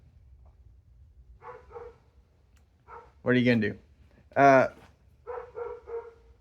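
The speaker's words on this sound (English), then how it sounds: "The neighbor's dog will not shut up." A neighbor's dog barks next door in a garage while a truck is being taken apart, a few sharp loud barks spaced out over steady background hum, with someone speaking briefly among them.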